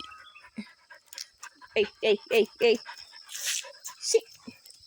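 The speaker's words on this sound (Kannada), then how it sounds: "ನಮ್ಮ ನಾಯಿ ಬಂತು" A dog pants in a run of four quick, loud bursts and then whimpers, close by, while a person calls out to it briefly.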